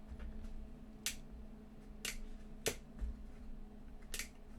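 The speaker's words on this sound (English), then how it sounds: "So you can hear the click from the speaker, but nothing happens." A Roberts R700 radio's speaker gives sharp, brief clicks as the set is switched on, several isolated ticks spaced about a second apart over a faint steady hum, with no talking.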